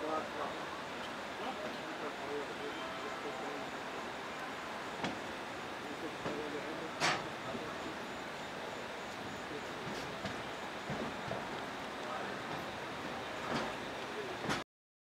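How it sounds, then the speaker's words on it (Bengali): A passenger train leaving Varanasi station for Haridwar, heard from on board: a steady, even rumble and hiss runs throughout, with a few sharp clicks and knocks along the way. "আমাদের ট্রেন কিন্তু বেনারস স্টেশন ছেড়ে বাড়ি দিল হরিদ্বারের উদ্দেশ্যে"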